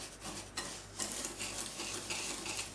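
A spoon quietly stirs and scrapes through a mixture of sugar and semolina in a bowl, with soft gritty swishes and a few light clinks, no voices.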